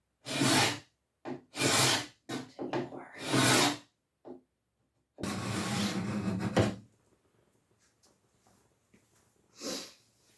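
Sandpaper scrubs old, cracked varnish off wood in repeated rough strokes, each followed by a short pause, then one longer sustained pass, all close by.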